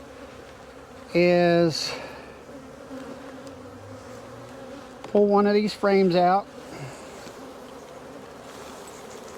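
Honeybees drone steadily around an open single brood chamber hive during a frame inspection, a close continuous buzz that continues while a person talks in short bursts over it.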